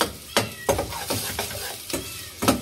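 Garlic sautéing in a pan for a home-cooked Filipino family lunch, with a steady close sizzle broken by several sharp stirring scrapes spaced roughly every half second.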